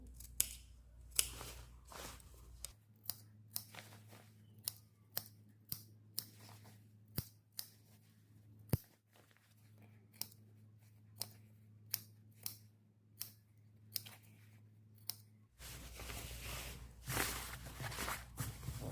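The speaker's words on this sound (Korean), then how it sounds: "V로 가위밥 주시고" Scissors cut V-shaped notches into a 1 cm fabric seam allowance around a round neckline while a French-sleeve vest is being sewn. About fifteen crisp, separate snips come in a loose, steady rhythm, close and quiet, with fabric rustling at the start and end.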